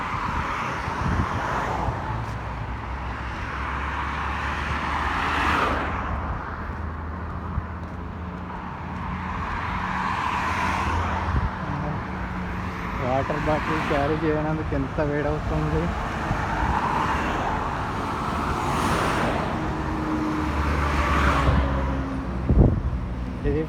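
Highway traffic in the Riffa area of Bahrain on a quiet Friday holiday, cars swishing past in repeated waves at moderate distance, with someone speaking over the steady road noise.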